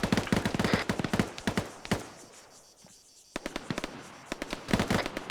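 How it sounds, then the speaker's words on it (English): A frag grenade goes off near the bottom of a tower in a video game firefight, with sharp close cracks and rapid popping bursts, then a brief lull before more crackling blasts. "I threw a frag around the bottom of the tower."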